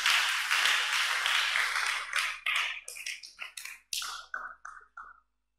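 Church congregation clapping hands for the Lord, a dense burst of applause that thins into scattered separate claps and fades out to silence.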